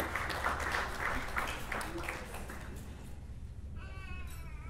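A gathering at a church anniversary dinner applauds to welcome a pastor, a moderate patter of clapping that thins out, then gives way to a high, wavering voice near the end.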